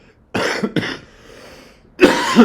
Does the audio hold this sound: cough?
yes